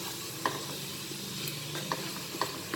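Onions with a touch of salt sizzle steadily in a pan for a one-pot vegetable khichadi, a soft continuous frying hiss broken by a few faint scrapes and ticks, with no voice over it.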